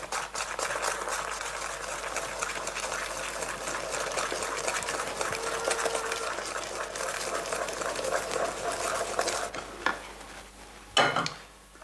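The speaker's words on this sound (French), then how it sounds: "Maintenant, je mets le beurre fondu. En tournant toujours." Melted butter being stirred into fouace dough by hand, a continuous soft wet churning and scraping in a bowl, faint and close, ending with a couple of knocks.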